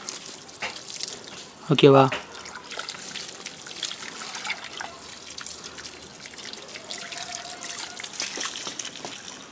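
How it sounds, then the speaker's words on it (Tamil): Water trickles and drips softly onto soil around a newly planted apple or persimmon sapling, a brief louder splash near the start, with a short spoken phrase over the quiet pouring. "தண்ணி விடணும்."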